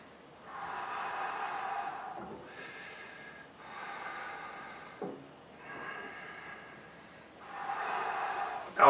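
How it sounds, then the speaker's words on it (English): Deep, audible breaths during a standing posture-tensioning exercise, palms pressed to a wall, coming in four or five long drawn inhales and exhales with short pauses between them, close and fairly quiet. "And breathe"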